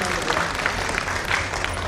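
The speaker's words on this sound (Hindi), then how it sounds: "आप तालियों से इनका सम्मान करें।" An audience at a Rajputana youth organisation program claps to honour guests, a short burst of crowd applause with a low rumble of voices underneath.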